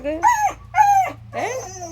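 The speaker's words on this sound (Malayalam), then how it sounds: "അവിടെ ഒരു പട്ടി വന്നതിനെ കണ്ടോണ്ട ബഹളം" A dog gives three sharp, excited barks in quick succession, close and fairly loud, with a higher yelping edge.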